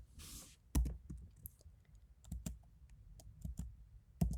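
Code being typed on a computer keyboard, with a handful of separate, irregular keystrokes spaced out over a few seconds, close and moderately quiet, following a short breathy hiss at the start.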